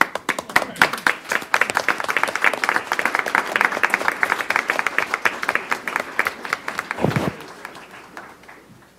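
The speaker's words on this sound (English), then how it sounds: "so let's clap for them." At a school board meeting, a roomful of people claps for honorees, with distinct hand claps in a lively, uneven burst that tapers off after about seven seconds.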